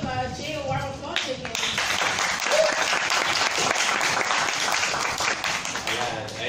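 Conference audience bursts into sustained applause, a dense wash of clapping that swells and holds for several seconds, with a voice speaking at the start and end.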